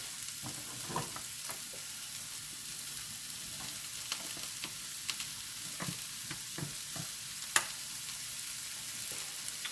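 Ingredients for a quiche sauté in a frying pan, giving a soft, even sizzle with scattered faint pops and occasional utensil clicks close by.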